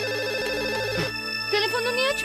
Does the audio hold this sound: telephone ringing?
yes